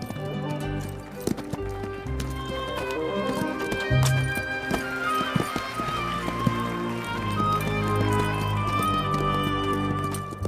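Horses performing classical airs above the ground, trained in European court horsemanship, sound in rhythmic clip-clop hoofbeats with occasional whinnies, set under a steady bed of music.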